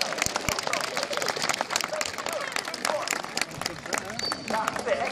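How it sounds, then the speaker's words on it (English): An audience claps and cheers loudly and continuously at a sea lion show, rewarding the animal after a fast retrieving trick. The dense applause carries on throughout, with crowd noise and a voice mixed in. "a big round of applause"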